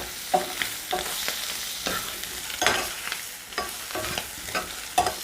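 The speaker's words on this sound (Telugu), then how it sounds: "కారం యాడ్ చేసుకొని మొత్తం మిక్స్ అయ్యేటట్టు కలుపుకున్నాం" Salted fish frying with chilli powder is stirred in a pan, a steady soft sizzle broken by repeated scraping strokes at an irregular rhythm, close by with no voices.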